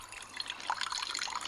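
Water trickles and splashes into an enamel mug outdoors at a campsite, giving a soft, close filling sound with small irregular drips and gurgles. The sound is faint and carries no speech.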